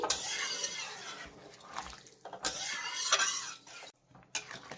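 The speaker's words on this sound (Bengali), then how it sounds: "গরম জলটা দিয়ে দিচ্ছি" Hot water splashes into a pan of rui fish curry in bursts of close gushing, sloshing sound with brief pauses, then quiets as the pour ends.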